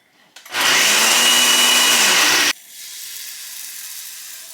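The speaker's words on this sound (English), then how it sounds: "I just put it all in the blender, makes it super easy." A kitchen blender whirs loudly for about two seconds with a harsh, grinding roar, then cuts to a softer lingering hum.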